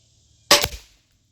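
A single sharp crack of an air rifle firing a slug, close and loud, with a brief ringing tail that fades within half a second; no talking.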